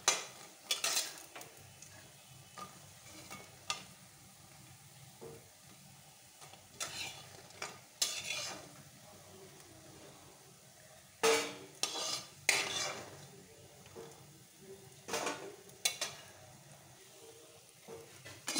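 Bora fritters frying in oil sizzle quietly in the background while a utensil scrapes and clinks against the pan in intermittent bursts as they are lifted out, close by with no voices.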